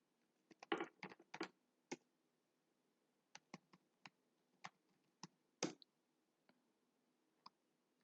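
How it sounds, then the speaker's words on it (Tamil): Someone types headings on a computer keyboard into an MS Word document, with quick bursts of close, crisp key clicks followed by sparser single taps and pauses, in an otherwise quiet room. "ஸோ இப்போ நான் ஒரு 5 ஹெட்டிங் மட்டும் டைப் பண்ணிக்கிறேன்."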